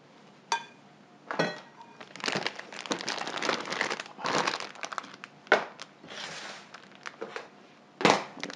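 Glaze being spooned and pressed into a plastic piping bag for banana and chocolate chip scones: crinkling plastic rustles in bursts with a few sharper crackles, close and fairly loud, no talking.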